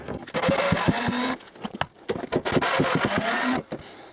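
Screws are worked out of a wooden workshop tabletop in a garage tool room, with loud buzzing bursts broken by short pauses, close up, along with knocks and rattles of wood.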